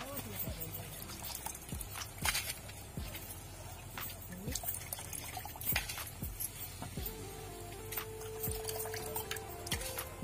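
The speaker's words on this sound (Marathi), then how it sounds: "5 लिटर पाणी आहे ना, त्यामध्ये मी हे गहू टाकून देते" Soaked khapli wheat goes into a pot holding about five litres of water, giving scattered small splashes, drips and trickles at a low, quiet level throughout.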